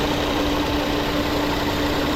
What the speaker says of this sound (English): The RPM continues to be stable and the engine is running really smoothly as well.